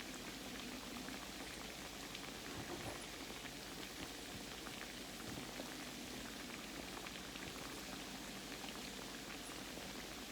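Food frying in hot oil, a constant soft bubbling and fizzing close by, with tiny crackles scattered through, faint and steady with no talking.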